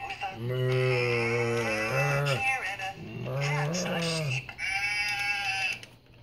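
Loud, close, drawn-out cow moos sound several times in a row in a home kitchen, with brief pauses between calls.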